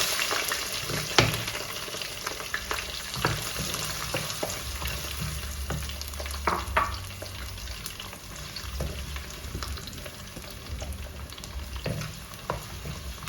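Chopped garlic fries in hot oil with curry leaves for a bilimbi (irumban puli) pickle, giving a continuous close sizzle broken by occasional clinks and scrapes of stirring, with nobody speaking.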